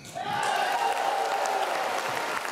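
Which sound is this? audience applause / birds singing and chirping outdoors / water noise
audience applause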